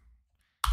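A single sharp computer mouse click lands near the end, close and clear after a brief quiet stretch.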